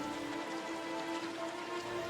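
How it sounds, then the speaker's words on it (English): Steady rain patters down on jungle foliage and surfaces in the mountains of South Kalimantan, Borneo, a dense, even hiss of drops close by with no voices. "the real adventure starts in the jungle when the rain comes"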